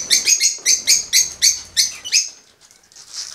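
A small bird gives a quick series of about nine bright, close chirps in an even rhythm, then falls quiet apart from faint high twittering.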